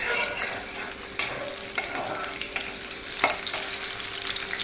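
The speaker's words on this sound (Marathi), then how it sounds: "आता मिरची चांगली भाजून आलेली आहे." Green chillies roast in hot oil in a pan for sabudana khichdi, giving a loud, close, steady sizzle with sharp scrapes and clicks of stirring.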